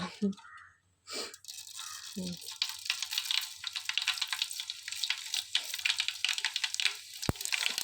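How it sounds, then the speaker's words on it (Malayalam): Mustard seeds splutter in hot oil in a pan, a dense run of sharp crackles and pops building after a few brief spoken words, with one louder snap near the end. "അപ്പോൾ കടുകൊക്കെ ഒന്ന് ചടപടയെന്ന് പൊട്ടട്ടെ കേട്ടോ"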